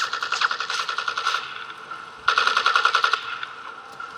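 Rapid automatic gunfire in the video game Project IGI, two loud sustained bursts of evenly spaced shots separated by a brief pause, with no talking.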